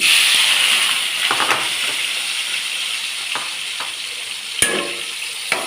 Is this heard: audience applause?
no